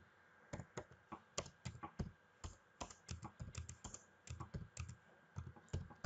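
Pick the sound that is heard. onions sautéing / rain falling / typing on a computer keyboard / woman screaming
typing on a computer keyboard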